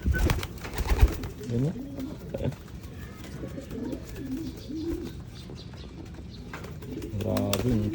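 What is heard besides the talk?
pigeons cooing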